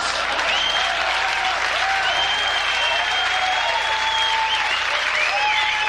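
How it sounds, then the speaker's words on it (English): A crowd at a 1989 stand-up comedy show claps loudly and steadily, with whistles and cheering rising above the dense applause. "He's applauding for that."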